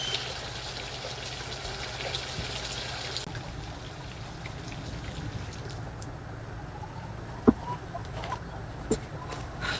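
Chickens cluck on a farm at feeding time, soft scattered clucks under a steady background hiss resembling running water, with a couple of sharper knocks near the end.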